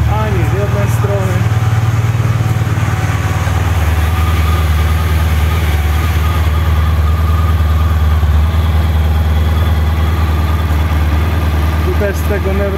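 A Honda VFR1200 Crosstourer motorcycle engine, warmed up, idles steadily and loudly up close, a constant low throbbing rumble with no revving, continuing without pause.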